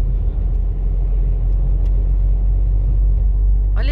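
A queue of cars at a fuel station in Portugal, heard as a loud continuous low engine rumble and road noise from inside or beside a vehicle, with a brief hiss at the very end and no clear talk.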